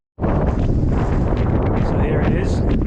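Cold, strong wind blows across an open farm field and buffets the microphone with a loud, continuous roar that does not let up.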